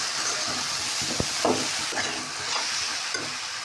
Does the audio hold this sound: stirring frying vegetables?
yes